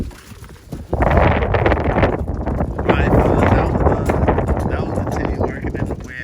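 Strong wind of about 20 mph sweeps an outdoor spot where Birmingham Roller pigeons are being flown. Loud, continuous rumbling gusts buffet the microphone after the first second, with a voice faintly present beneath the roar.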